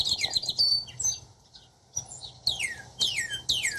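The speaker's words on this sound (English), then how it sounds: "Is that the sound a Cardinal makes?" A cardinal sound effect plays as a series of bright, close, downward-sweeping whistled chirps in quick bursts, separated by a brief pause.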